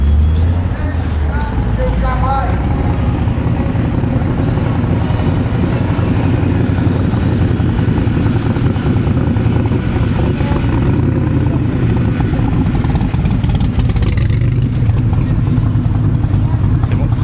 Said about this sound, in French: C'est un monstre, le bruit que ça fait